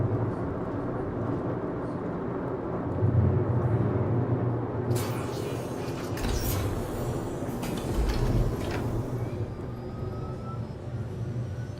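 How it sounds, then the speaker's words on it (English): A shuttle departing at Levski in Star Citizen, a heavy continuous low rumble and hum that swells around the middle, with a brief hiss burst, steady and loud with no talking. "The shuttle is preparing to depart."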